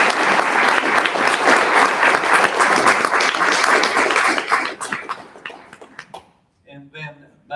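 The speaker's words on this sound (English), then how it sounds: "let's give all of them a nice round of applause." Loud, dense audience applause fills a Rotary Club officer installation gathering for several seconds, then thins out and fades to scattered claps and a few quiet voices near the end.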